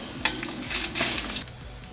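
Kashmiri chilies and ordinary red chilies fry in a pan with a soft, continuous sizzle and light scraping stirs, heard close and fairly quiet with no talking.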